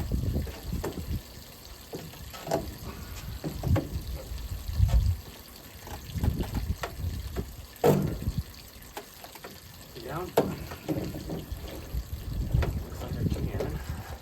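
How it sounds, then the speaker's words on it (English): Water draining out of the pipes of a backyard pool waterfall being winterized, a running trickle and splash that swells and eases across the clip with intermittent thumps and handling sounds close by. "to see if I can quickly drain water out of these"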